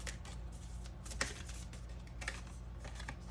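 Tarot cards are shuffled and drawn close up in soft, irregular riffles and flicks over a low steady background hum, with no talking.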